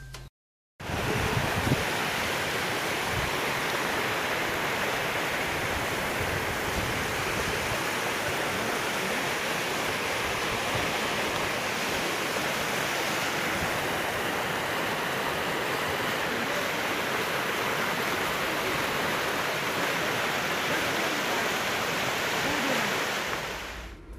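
Floodwater of the swollen Bairal river rushing past in a loud, steady roar of broadband noise, close and continuous with no voices.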